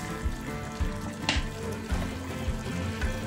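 Red chilli momo chutney with tomato ketchup fries in a pan while being stirred, a close, continuous sizzle punctuated by regular soft scraping strokes of the spoon.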